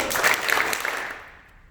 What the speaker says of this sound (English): 3 claps, go.